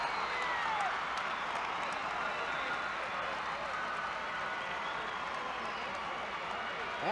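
Crowd cheering at a 1983 high school basketball game for the Lebanon Tigers, a sustained roar of voices and clapping filling the gym at a steady level.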